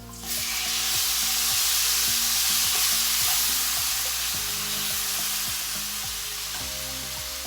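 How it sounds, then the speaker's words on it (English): Chopped tomatoes hit hot masala in a pan and burst into a loud, dense sizzle, with stirring scrapes ticking rhythmically underneath as the frying hiss holds steady then eases slightly. "Now I'm going to add chopped tomatoes."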